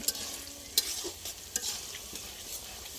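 Chicken pieces fry with chili powder, ginger paste and garlic paste in a pan for biryani, giving a steady, faint sizzle with occasional soft scraping stirs, and no voices.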